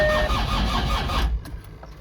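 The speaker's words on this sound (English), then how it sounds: "let's crank it and see whether it starts" A Land Rover Discovery TD5 engine cranks slowly with a labored, rhythmic churning for about a second, then stops abruptly, leaving faint background noise.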